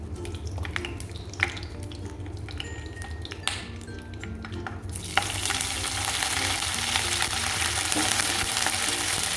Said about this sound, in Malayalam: എണ്ണ നന്നായി ചൂടാകുമ്പോൾ നമുക്ക് 2-3 വറ്റൽമുളകും പിന്നെ കുറച്ച് കറിവേപ്പിലൊക്കെ ഇട്ടൊന്ന്